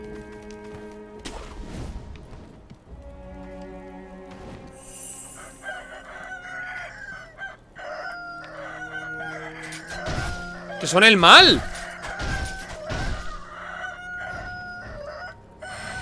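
Gobbling turkeys in Sekiro: Shadows Die Twice, a loud rapid gobble cluster rising over game music, clashing effects and shouted talk.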